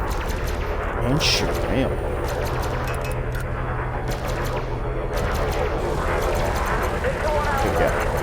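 A ship's multi-cannon firing in the space game Elite Dangerous, a rapid string of punchy shots running under someone talking, with other combat noise in the mix.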